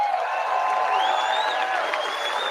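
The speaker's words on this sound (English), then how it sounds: "The crowd had to chant it." A large crowd at a Trump rally in Butler, Pennsylvania chants a name in unison, a sustained, dense roar of many voices that fills the whole stretch at steady loudness.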